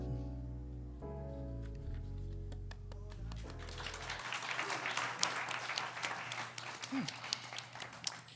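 Crowd cheering and applause breaks out as a song's music drops away, a dense, lively wash of clapping and shouts filling the rest of the moment at moderate level, with a brief vocal swoop near the end.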